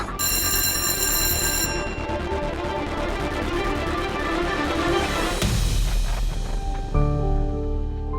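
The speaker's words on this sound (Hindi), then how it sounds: "रॉकी फोन उठा।" A telephone bell rings loudly and continuously with a bright metallic trill, then cuts off and gives way to a lower electronic tone near the end.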